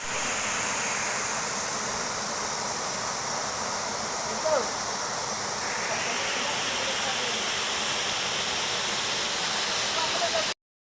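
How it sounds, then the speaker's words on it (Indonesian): Steady roar of the Batu Itam seven-tier waterfall at Tapaktuan, South Aceh, a broad continuous rushing wash of falling water, loud and close throughout. "ini bagus sekali ya terjun, bro."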